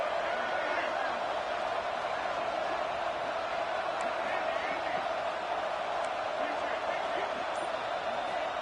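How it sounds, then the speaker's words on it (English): Stadium crowd noise from the college football video game NCAA 26 forms a constant, dense roar at steady volume with no clear peaks or pauses. "Listen to the crowd energy here in the early going"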